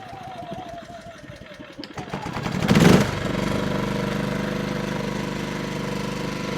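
A NOVUS portable gas generator, set on choke, is pulled and cranked, catches with a loud surge, then settles into a steady, fairly quiet running drone.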